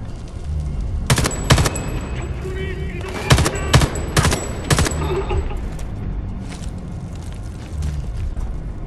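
Gunfire in the shooter game Homefront: The Revolution: several sharp bursts of automatic weapon fire cluster near the middle, loud and close, over a low rumbling battle backdrop, with voices talking at times.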